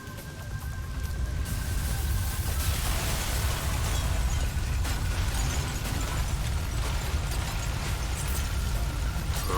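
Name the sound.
spaceship explosion in video game Hard Truck Apocalypse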